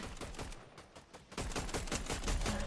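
Distant gunfire in a shooter video game, rapid bursts of crackling shots, faint at first and then louder and denser, with no talk over them.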